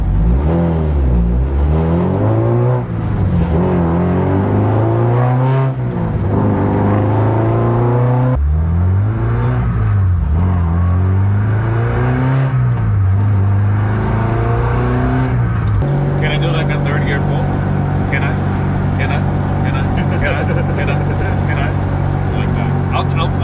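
Close, loud engine of a 9th-generation Honda Civic swapped to a K20 engine, its pitch climbing in several acceleration pulls before settling into a steady, higher drone, with people talking in the cabin throughout.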